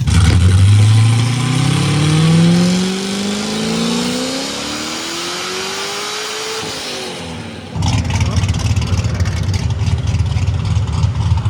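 A Corvette Z06 C6 engine revs hard under full power, its loud tone climbing steadily in pitch and then dropping off, before a harsh, steady roar takes over for the final seconds.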